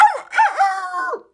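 A voice imitates chicken clucking and crowing alongside a rooster, a few close, loud, warbling calls in quick succession over about a second, with no talk during them.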